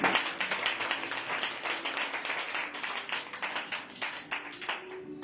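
A church congregation clapping together in praise of the Lord, with dense, steady rhythmic applause that carries on throughout and is heard alone, fairly distant in the room.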